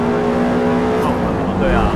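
A race car in Forza Motorsport on the Kyalami Grand Prix circuit roars under acceleration, a loud, close, sustained engine drone with rising pitch, while people talk over it.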